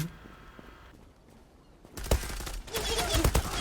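Gunfire erupts in the Zula shooter game, starting quiet then breaking into loud rapid bursts of automatic shots and impacts over the last half, close and dense.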